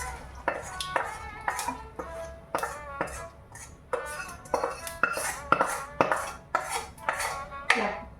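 A metal spoon scoops oil and mustard seeds out of a wok into another bowl, giving a run of sharp, close clinks and scrapes in an uneven rhythm with short pauses between strokes.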